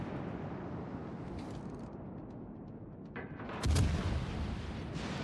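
Heavy naval guns fire in World of Warships, with a Soviet Chapayev-class cruiser shelling at long range: a continuous rumbling battle bed that swells into a louder booming salvo near the end.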